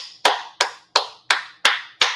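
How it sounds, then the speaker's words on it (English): Six sharp single hand claps land one after another at an even, unhurried pace, each crisp and close with a short decay, with no voices. "So clap for yourself."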